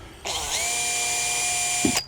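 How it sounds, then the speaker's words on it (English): A step drill bit spins up and drills during work on a mast lift, a sudden loud steady whine with a tonal hum that holds for nearly two seconds, then a short bump and stop. "Maybe we'll go straight to the step drill."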